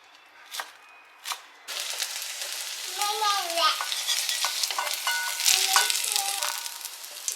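Fenugreek leaves frying in a pan with garlic tempering, a close crackling sizzle with scraping stirs and clattering utensil strokes, a couple of sharp taps at the start.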